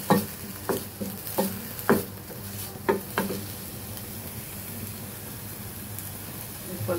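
Chopped onion cooks in a small steel pan with a close, crackling sizzle. Several sharp knocks and scrapes from stirring stand out in the first few seconds, then a steadier hiss continues.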